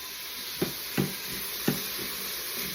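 Vegetables with garlic stirred in a pressure cooker pot, a steady sizzling hiss running throughout with three distinct scraping thumps of the spoon, close and moderately loud.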